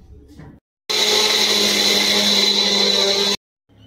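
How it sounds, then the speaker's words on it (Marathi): A mixer grinder grinds peanuts in one loud, steady whirring burst of about two and a half seconds, starting and stopping abruptly, with faint room sound before and after. "सर्वप्रथम आपल्याला शेंगदाणे मिक्सर मधून बारीक करून घ्यायचे आहेत"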